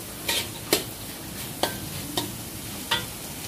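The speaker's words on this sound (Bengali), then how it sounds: "আমার সবজি এবং ডিম দুটোই কিন্তু করে নেওয়া হয়ে গিয়েছে, এটা আর একটু নেড়ে চেড়ে নিয়ে" Vegetables and egg tossed in a black iron wok: five sharp metal scrapes of the spatula at uneven intervals over a soft, constant sizzle, close up with no voices.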